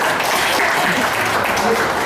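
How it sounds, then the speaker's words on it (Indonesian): Applause from an audience at a leaders' dialogue panel, a dense steady patter of many hands lasting about two seconds, with faint voices mixed underneath. "tepuk tangan"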